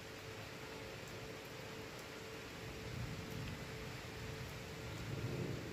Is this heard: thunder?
yes